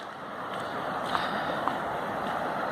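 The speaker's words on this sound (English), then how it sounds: "But here's a creek we found." Water flowing along a creek near Fremont, a steady broadband rushing wash that fills the whole stretch at an even, fairly close level, with a couple of faint splashy ticks and no voices.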